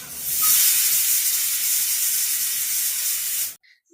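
A pressure cooker cooking mung dal lets off a loud, steady jet of steam hiss for about three and a half seconds, then cuts off abruptly into near silence.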